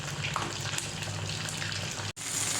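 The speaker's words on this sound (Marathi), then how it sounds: "कॉर्नफ्लॉवरच्या पावडरमध्ये पनीर भिजवायचं आणि तळायचं।" Paneer cubes coated in cornflour fry in hot oil, giving a steady, close hiss and crackle that runs continuously with a brief dropout near the end, and no voices over it.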